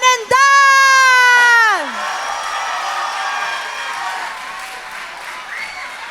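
A closing-ceremony audience breaks into applause and cheering after a voice calls out a name; the crowd noise is steady and moderately loud, with scattered whoops under the fading voice.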